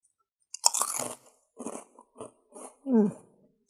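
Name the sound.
crunching on a birthday cake flavour party snack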